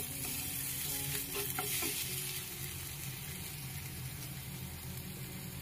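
Water goes into a hot pan of frying fish curry with chili powder and spices, setting off a loud, steady sizzle and crackle that stays close throughout.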